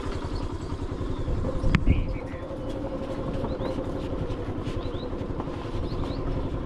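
A motorbike engine hums steadily on a mountain road between Butwal and Palpa in Nepal, a close, continuous throbbing drone with a brief louder knock partway through.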